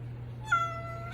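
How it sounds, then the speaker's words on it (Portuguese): A cat gives a single clear, mid-length meow against a low steady hum in an indoor room. "Tem uma gatinha que passou aqui, ó, Roseli."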